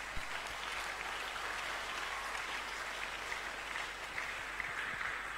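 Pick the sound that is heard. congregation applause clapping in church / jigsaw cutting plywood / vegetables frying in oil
congregation applause clapping in church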